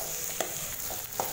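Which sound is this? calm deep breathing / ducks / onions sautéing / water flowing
onions sautéing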